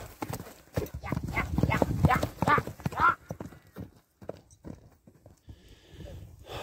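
Horse hooves clip-clop at a horse show, a quick, rhythmic run of hoofbeats at moderate distance. Someone talks over the first part, and the hoofbeats carry on more sparsely as the voice drops away.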